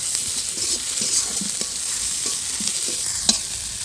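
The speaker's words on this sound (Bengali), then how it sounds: "এবার দিয়ে ভালো করে কষে নেব।" Near, steady sizzling of soybean and egg curry frying with salt, turmeric and ground cumin, broken by the scrape and clatter of a spoon stirring the pan.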